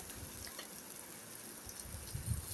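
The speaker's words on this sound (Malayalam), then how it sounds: "നന്നായിട്ട് ആ മഞ്ഞപ്പൊടി ഉള്ളിക്ക് പിടിക്കുന്ന വരെ നമുക്കൊന്ന് ഇളക്കിയിട്ട് ഒന്ന് ഇതാക്കി കൊടുക്കുക" Onions coated in turmeric sizzle softly in a pan as they are stirred, a faint, steady frying crackle with a few light scraping touches and no voices.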